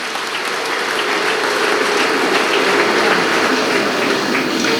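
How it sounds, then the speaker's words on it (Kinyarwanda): Church congregation clapping loudly at a Sacrament procession day in Gisenyi, a thick, continuous wash of many hands with a sustained roar that may carry ululation blended in, unbroken for several seconds and with no speech. "Dushimira Imana dukoma amashyi n'impundu."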